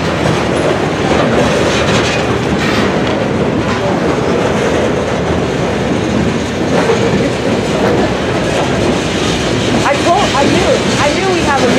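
A CSX mixed freight train rolls past close by in Brunswick, a continuous loud rumble of wheels and cars with steady rhythmic clatter over the rails for the whole stretch.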